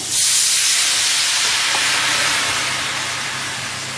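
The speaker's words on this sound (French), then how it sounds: "Je vais déglacer avec le vin blanc" Onions deglazed with white wine in a hot pan give a loud, sudden burst of steamy hiss and sizzle that fades slowly, close and alone with no talk.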